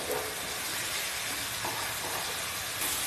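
Spice paste being stirred and fried in a pan, a dense, even hiss and sizzle with a few soft stirring scrapes, close and steady.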